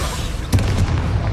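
A Bombarda spell goes off in Hogwarts Legacy as a single sharp, booming burst midway through, rising out of steady game background noise.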